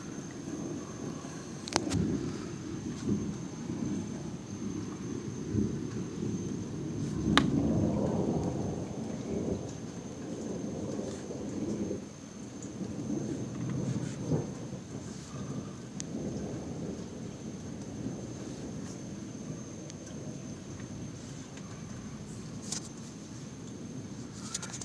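A nighttime thunderstorm with steady rain hissing throughout and several rolling thunder rumbles and sharp cracks rising and fading, fairly close, with no voices.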